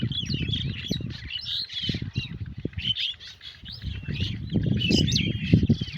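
Many birds chirp and tweet from the treetops in a village setting, a busy overlapping chorus with occasional wing flaps over low background noise and a faint voice.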